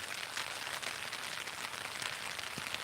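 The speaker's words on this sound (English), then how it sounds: "it just started raining 5 minutes after I set up the tent" Steady rain pattering on a tent nearby, a soft continuous patter with occasional heavier drops and no speech.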